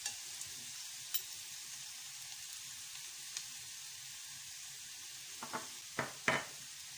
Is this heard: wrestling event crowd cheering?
no